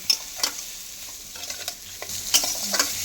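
Turmeric and salt sautéing with spices for a green banana kofta curry, a soft sizzle broken by several sharp scraping stirs of a spoon against the pan, close and fairly quiet, no voices.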